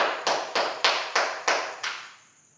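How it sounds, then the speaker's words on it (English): Six sharp, evenly spaced claps or taps, close and fairly loud, each with a quick decay, heard as a short round of applause for a student group in a classroom. "let's give a round of applause for group 1"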